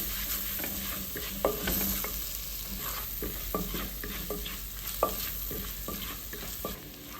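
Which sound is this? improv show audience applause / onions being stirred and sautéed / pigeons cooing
onions being stirred and sautéed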